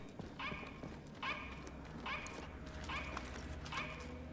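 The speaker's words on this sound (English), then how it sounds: "See, doesn't it sound like a robo-bark?" A robotic dog in the video game The Division gives a series of four evenly spaced, synthetic-sounding barks, each short and bright, repeating about once per second over a low ambient game background.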